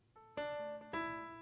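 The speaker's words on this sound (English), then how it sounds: "So first I added this grand piano from XV50, and here's how that sounds." Grand piano sound from the XV50 plugin in a pluggnb beat, a few soft notes followed by two fuller chords that sustain and fade, heard alone and fairly quiet.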